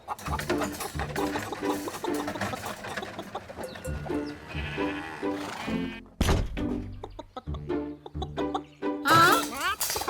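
Chickens cluck and squawk repeatedly alongside music and other Minecraft game sounds, with brief thuds and bursts of noise.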